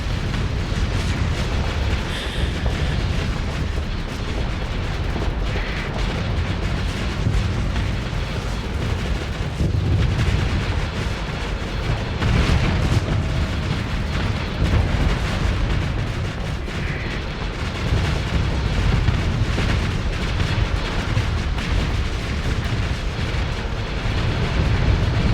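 Space station blowing apart in the video game Starsector, a dense, continuous barrage of deep booms and rumbling blasts that stays loud for the whole stretch.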